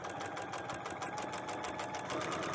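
A sewing machine fitted with a walking foot stitches fabric in a fast, steady mechanical chatter, each needle stroke ticking evenly, close and continuous with no pauses and no voices.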